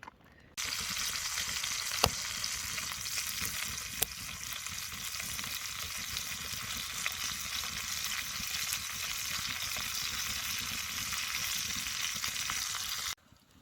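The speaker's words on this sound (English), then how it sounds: "Throw a little lard in the frying pan," Fresh-caught northern pike fries in lard in a frying pan, giving a steady, close sizzling crackle that starts suddenly, holds evenly with a couple of sharp pops, and stops near the end.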